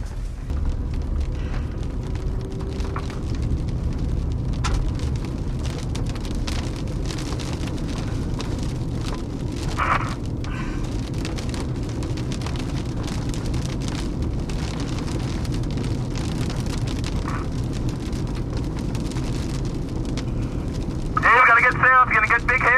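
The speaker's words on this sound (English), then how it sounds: "Here comes the hail." Hail and rain hammer steadily on cars after a tornado near South Plains, Texas, a dense continuous roar of impacts with a few sharper knocks, and people speaking faintly underneath.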